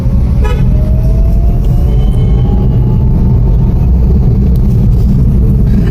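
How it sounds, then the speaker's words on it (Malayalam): Congested roadside traffic of stalled cars and lorries, a steady loud rumble of engines with a clear car horn toot near the start and faint passing tones, no talk. "റോഡ് ഇവിടെ നല്ല രീതിയിൽ വണ്ടി ബ്ലോക്ക് ഉണ്ട്"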